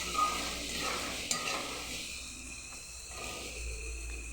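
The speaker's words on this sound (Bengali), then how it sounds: "যতক্ষণ না তেল ছাড়ছে ততক্ষণ আমি মশলাটাকে কষিয়ে নেব।" Spice paste fries in oil with potato and eggplant for a dried fish dish, a soft steady sizzle with occasional stirring scrapes, close but quiet and with no voices.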